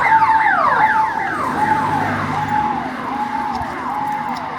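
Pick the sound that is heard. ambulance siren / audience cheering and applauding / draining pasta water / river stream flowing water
ambulance siren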